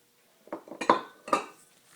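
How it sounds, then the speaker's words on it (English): A spoon scrapes and clinks against a bowl while chocolate chips and nuts are stirred into banana muffin batter, a few distinct knocks and scrapes close up, with no talking. "and you just mix this in thoroughly"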